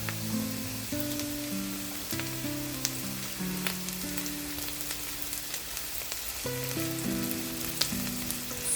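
Onion and garlic sautéing in a hot pan, a steady soft sizzle and crackle with faint tonal background music running over it, no voices present.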